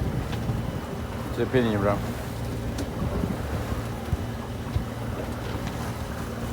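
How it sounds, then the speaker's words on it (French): Sails flapping and cracking in the wind aboard a sailboat running broad reach off Corsica, gusty wind noise and irregular snaps, with someone briefly speaking over it. "Les voiles claquent."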